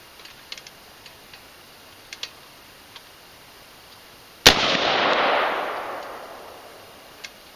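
One sharp, loud report from an AR pistol with a 7-inch barrel cracks out midway, trailing off into a lingering echo; a few faint ticks come before it.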